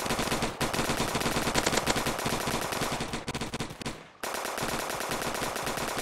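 Rapid automatic fire from the ghost gun in Roblox Zombie Attack, loud and continuous bursts with a brief pause near the end before the shooting resumes.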